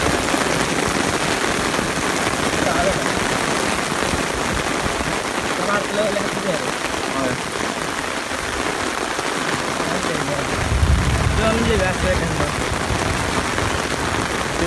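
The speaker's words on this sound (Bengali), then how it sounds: "প্রচণ্ড লেভেলে বৃষ্টি হইল প্রচণ্ড লেভেলে বৃষ্টি হয়" Heavy rain pours down steadily during a flood in Mollapara, Sylhet, a loud dense hiss of drops hitting water and surfaces throughout, with a faint low rumble near the end.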